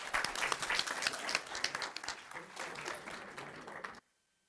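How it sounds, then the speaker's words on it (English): A school board meeting audience breaks into applause for winners, sustained crowd clapping that rolls steadily for about four seconds before stopping abruptly into near silence. "Let's give our winners another round of applause."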